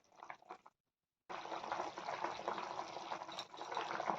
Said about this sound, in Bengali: এখন ঝোল ফোল দিয়ে দিয়েছি, এখন ফুটে আসছে।